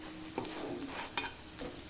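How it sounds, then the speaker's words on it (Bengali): Onions frying in oil, stirred with a wooden spatula, quiet sizzling punctuated by three soft scraping strokes, close and faint. "আর এই কাঠটা দিয়ে খুন্তি দিয়ে পেঁয়াজ দিয়ে দেবো।"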